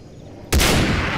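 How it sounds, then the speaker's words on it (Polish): A single sharp, loud sniper rifle shot in the video game Far Cry 3, bursting abruptly out of quiet and followed by a long booming tail that rings out to the end. "No to snajperka!"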